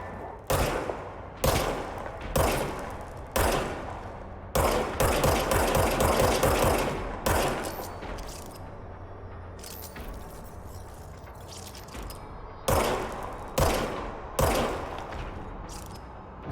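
Player gunfire in the video game Control comes in sharp loud bursts of rapid shots separated by pauses, crisp close reports with rattling repeats inside each burst.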